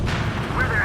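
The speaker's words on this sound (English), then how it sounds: "Strider 1, missile away." A missile launched from a fighter jet in the combat flight game Ace Combat 7: a brief, loud rumbling roar with a voice speaking over it.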